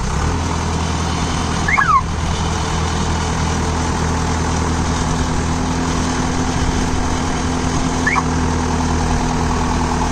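Zoomlion FH88 Speedster paddy harvester running in second gear: a steady, loud, droning engine rumble that holds even throughout, with a couple of faint brief squeaks and no talking.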